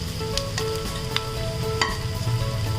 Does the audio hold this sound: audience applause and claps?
no